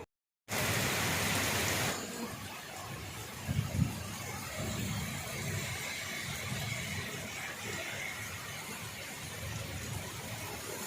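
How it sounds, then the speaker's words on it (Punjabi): Steady rain falls in a Punjabi village, a dense, even hiss of drops that holds throughout with a few low rumbles partway through. "ਬਾਰਿਸ਼ ਹੋਈ ਜਾਣ ਡਈ ਆ"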